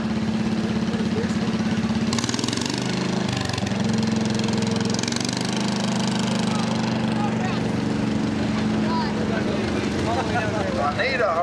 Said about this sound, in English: Eugene Harkey with his 1967 John Deere. He said it's got a modified front on it